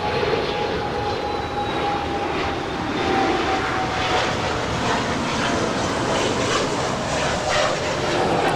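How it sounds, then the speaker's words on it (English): A Bombardier Challenger 350 business jet takes off at Los Angeles International Airport, a loud, steady engine roar with a thin whine that slowly falls in pitch. "And that is a Bombardier Challenger 350, destination unknown."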